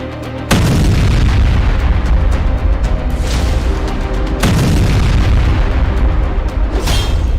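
Deep, heavy bunker buster bomb explosion booms with long rumbling roar, one sudden blast followed by another a few seconds later, loud and sustained.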